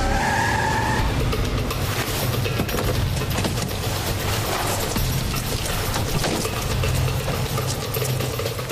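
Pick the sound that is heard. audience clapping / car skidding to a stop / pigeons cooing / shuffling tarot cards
car skidding to a stop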